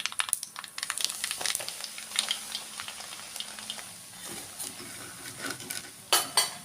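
Chili powder being stirred into a ginger mixture in a pan while making ginger thokku, with a spoon scraping and clinking against the pan in steady bursts over a soft sizzle, with no voices.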